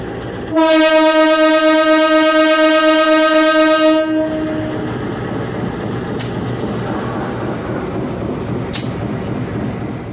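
A train arriving at Blitar station sounds a long, loud, steady horn blast for several seconds, then its rumble and clattering wheels continue at a lower level, with a couple of sharp knocks.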